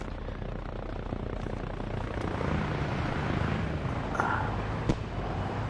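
A helicopter in a video game gives a steady whirring rotor drone with a low continuous rumble, fairly even and mid-loud throughout, with no talk.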